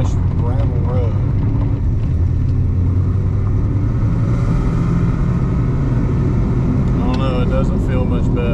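A Nissan 300ZX drives over a fresh gravel road, giving a loud, steady low rumble of road and tyre noise, with a voice speaking briefly near the start and end.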